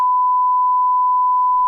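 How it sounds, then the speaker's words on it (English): A single steady censor beep, a pure unbroken tone lasting under two seconds, sounds alone to bleep out a name in a podcast conversation. "Beep it out."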